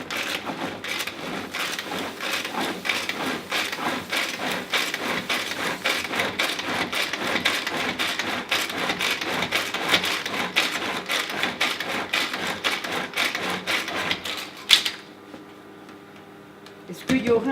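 A kitchen mixer blends food while steamed apple with mango coulis is being made. It gives a steady, dense, rattling whir with quick rhythmic pulses for about fifteen seconds, then cuts off abruptly, leaving a quieter room.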